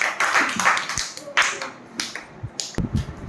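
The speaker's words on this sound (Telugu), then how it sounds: "చప్పట్లు కట్టండి అందరూ" Primary school children clapping in a classroom, a scattered, uneven patter of claps with sharp slaps standing out, while voices carry on over it.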